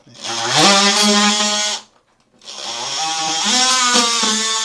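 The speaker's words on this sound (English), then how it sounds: "If you've got a lot sticking up, I will use the multi-tool." A multi-tool trims excess grout around wall tile in a bathroom, giving two loud buzzing, whining bursts of oscillating motor noise separated by a brief pause.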